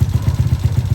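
A small motorcycle with a 34 carburetor idles with a steady, rapid low thumping pulse, loud and close, running on its own with no talk.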